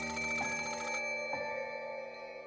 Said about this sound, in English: After a short while, the phone rang again.